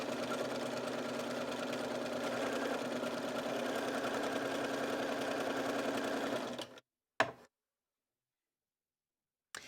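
A Bernina sewing machine with a pintuck foot stitches a row of pintucks in fabric, running in a steady close whir for several seconds before stopping, followed by a couple of brief clicks and then silence.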